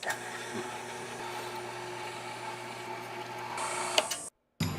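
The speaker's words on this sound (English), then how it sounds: "through the meat grinder we go" A meat grinder with a coarse die works through cold meat, a steady mechanical whirring drone that holds evenly for several seconds, then cuts off abruptly into silence before resuming.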